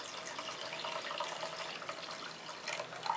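Cold water running into a pot holding chicken pieces for Korean chicken rice porridge: a steady, close, rushing pour with a slight splashing texture throughout, no voices.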